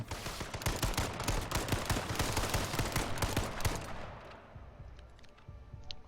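Rapid bursts of gunfire in the battle royale video game H1Z1, dense and loud for about four seconds, then easing off to a quieter tail with a few scattered shots.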